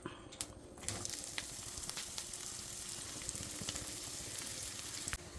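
Sliced onions sizzle and fry steadily in a hot pan for a Kerala-style egg roast, a continuous crackling hiss with occasional stirring scrapes, close and alone without talk.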